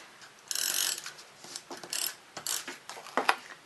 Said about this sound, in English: double-sided adhesive